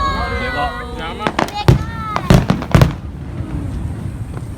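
Fireworks exploding at a display in Japan, with several sharp booms and pops in quick succession while people nearby talk and exclaim.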